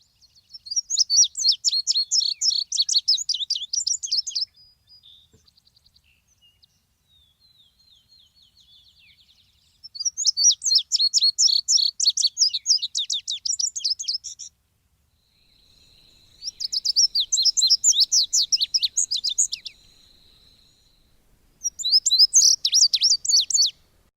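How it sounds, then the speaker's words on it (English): Indigo bunting song recorded in spring in Missouri: four bursts of quick, high, paired chirping phrases separated by quiet gaps, clear and fairly close with no other sounds. "So that's the indigo bunting."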